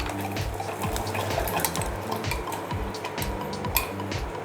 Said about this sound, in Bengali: সঙ্গে সঙ্গে নেড়ে দিতে হবে